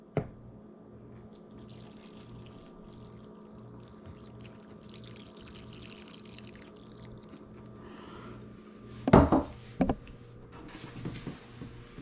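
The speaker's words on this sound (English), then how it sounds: "I'm gonna keep pouring that on both sides until I've used all of my water." Water poured into the track of a stuck window, with low steady trickling and pouring that runs faintly throughout and gives way to a couple of louder splashes near the end.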